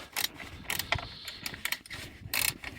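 Ratchet wrench loosening a bolt on a Fiat Tipo: several short bursts of quick mechanical clicking, close and fairly quiet, with brief pauses between strokes.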